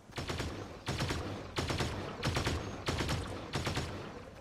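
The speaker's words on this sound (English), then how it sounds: "Oh wait, somebody's shooting at me." Fortnite gunfire near a gas station, five rapid bursts of automatic shots, each about half a second long, separated by brief pauses and fairly loud and close.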